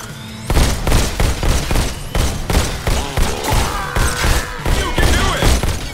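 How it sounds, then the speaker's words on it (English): A rogue bot in the Robo Recall video game fires a shotgun, loud blasts repeating in a rapid, fairly regular run over about six seconds, with clattering impacts and game effects layered underneath. "That rogue bot has a shotgun."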